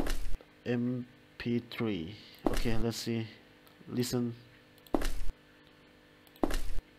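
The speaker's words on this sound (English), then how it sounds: "Okay, this is the Footstep." A footstep sound effect plays in a first-person game built in the UPBGE 3.0 engine, heard as two separate dull thuds after someone speaks.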